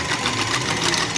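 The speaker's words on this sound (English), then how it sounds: "We're gonna whisk that up real quick." Eggs seasoned with pepper and onion powder being whisked, a fast continuous rattling whir of the whisk against the bowl, close and loud throughout the short moment.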